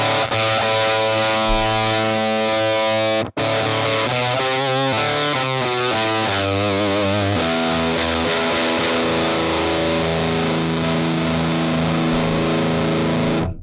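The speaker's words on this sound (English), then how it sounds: "I think it's like full-blown power amp distortion." Heavily distorted electric guitar chords from a modeled amp pushed into full power-amp distortion, ringing out loud and saturated, with a brief cut before more crunchy, overdriven notes sustain.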